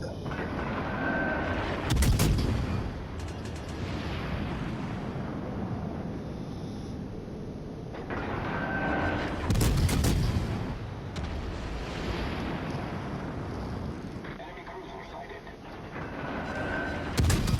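Warship gun salvos fire in World of Warships Legends, heavy booms recurring every several seconds over a constant engine and ocean rumble, fairly distant and muffled in the mix.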